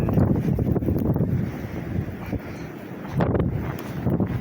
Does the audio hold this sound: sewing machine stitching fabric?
no